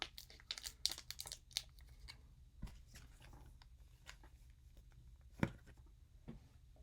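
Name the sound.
opening Pokémon TCG card pack wrapper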